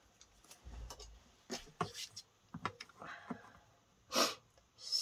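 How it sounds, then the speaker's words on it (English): Repeated nasal sniffles from a person with hay fever, short quick inhalations scattered across the moment, close and fairly quiet, with faint rustling and small handling noises between them. "So you'll have to forgive my sniffles as well."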